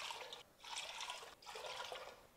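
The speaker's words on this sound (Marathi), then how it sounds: "आता यामध्ये अजून 3 वाट्या पाणी घालू" Water is poured into a cooking pot while making rice-flour chakli dough, a bright splashing gush in two pours separated by a brief pause, close and fairly loud, with no talk.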